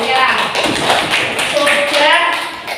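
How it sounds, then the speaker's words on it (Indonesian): Classroom of students clapping hands, a busy close patter of claps with voices and shuffling mixed in throughout. "Oke, tepuk tangan buat kalian"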